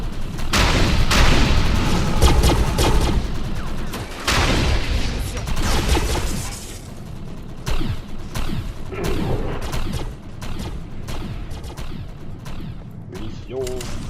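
Rocket launcher fire and explosions in a video game, loud heavy booms and blasts in a dense burst at the start, then scattered bangs and gunfire-like crackles continuing throughout.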